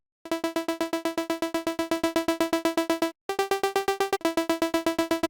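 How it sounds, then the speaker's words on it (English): A bright, buzzy synth tone pulses in quick, even sixteenth-note chops, its level throbbing rhythmically; the note shifts pitch twice with brief gaps between phrases. "we have this standard wavetable and this LFO1 linked to the level on a 1/16th rate"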